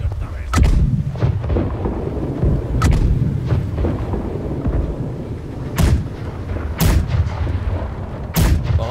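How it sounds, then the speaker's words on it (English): Ship's cannons fire a broadside in the naval combat game Blackwake, from a galleon. Several loud, sharp booms come at irregular intervals, each rolling off into a rumble, over a constant low background din. "keep on firing left side cannons"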